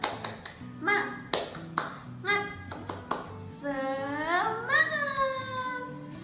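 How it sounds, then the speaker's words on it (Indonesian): A class of young children and their teacher clap a rhythmic classroom chant, sharp hand claps in a patterned beat, followed by voices sustaining a sung call together. "yuk kita tepuk semangat bersama-sama Bu Guru ya"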